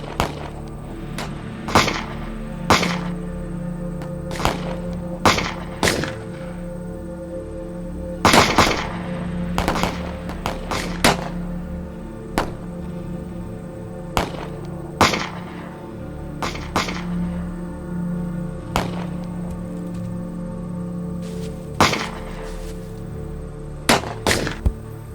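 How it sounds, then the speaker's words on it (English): Gunshots crack out in a western film battle, a rifle and revolver fight with single reports and quick clusters spread irregularly over a steady low rumble, loud and sharp against the background. "Keep firing."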